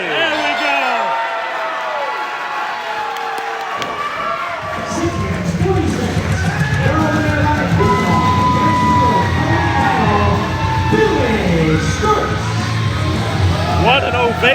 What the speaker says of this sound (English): What an ovation from the crowd here in Columbia tonight.